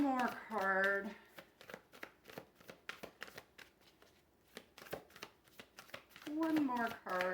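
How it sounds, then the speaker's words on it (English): Tarot cards are drawn and handled from a deck, giving a run of soft slaps, flicks and rustles between short bursts of a woman's speech at the start and end. "I'm going to grab one more card."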